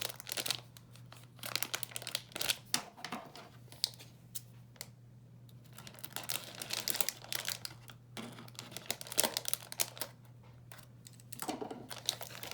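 Plastic packaging for an Easyflash unit being cut open by hand, giving a run of close crinkling, crackling and rustling bursts with short scraping and tearing spells, irregular and fairly busy throughout, no talk.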